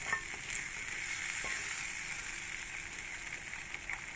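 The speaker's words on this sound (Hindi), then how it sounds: "हमने मीडियम आंच में ये सब सेक रहे हैं।" Cream and spices roast in a pan over a medium flame for a Jain shahi paneer, giving a continuous, even sizzle and crackle up close with no talk.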